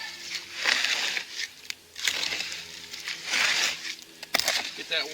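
Water being worked into dry concrete mix in a pan for setting farm gate posts, rhythmic gritty scraping and crunching strokes repeating about once a second, close and fairly quiet.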